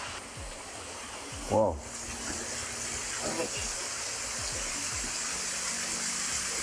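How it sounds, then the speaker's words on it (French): A steady rush of water from a small waterfall by a cave entrance on Réunion hisses throughout, with brief exclamations from people nearby. "Là, c'est la petite cascade"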